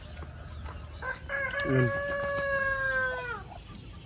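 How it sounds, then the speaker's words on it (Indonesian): Domestic ducks on a provincial farm in San Carlos City, Negros Occidental, Philippines, give a loud drawn-out call close by. A short voice is heard over quiet rural background noise. "Ulit po natin yung itik dito guys."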